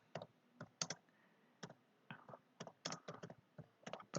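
Computer keyboard typing while entering congregation service notes, with short bursts of crisp key clicks separated by brief pauses, close and fairly quiet, no talking.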